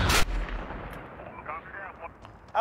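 A sharp, loud blast opens the moment in a Modern Warfare match, likely a cruise missile strike, then a rumbling tail decays with scattered distant pops and faint game effects.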